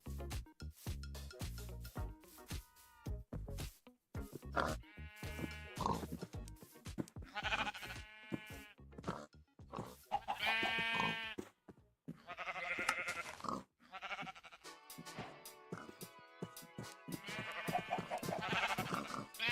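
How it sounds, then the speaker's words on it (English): Repeated video game sheep bleats, some overlapping, come in bursts with short pauses between them, clear and fairly close, with no talking. "There's lots of livestock, a whole lot of sheep I see there."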